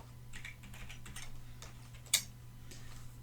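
Quiet tapping on a computer keyboard while a password is entered during Windows 10 setup, with soft irregular keystrokes, one sharper click, and a steady low hum behind.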